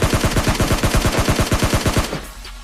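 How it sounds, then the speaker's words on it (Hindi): A PUBG Lite bot fires in a rapid automatic burst, loud, close and sharp, with evenly spaced shots for about two seconds before the burst cuts off. "पीछे से मुझे एक बॉट की फायर आते है"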